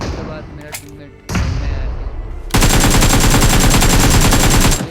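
Gunfire in a mobile battle royale shooter in a spiderman mode, with scattered shots and game effects followed by a loud, sustained rapid burst of automatic fire close to the listener.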